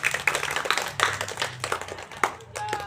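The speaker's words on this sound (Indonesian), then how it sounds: "Tepuk tangan dulu buat anak-anak." A classroom of schoolchildren claps for each other after a physical education lesson on floor gymnastics, a short, quiet patter of uneven hand claps with faint voices underneath.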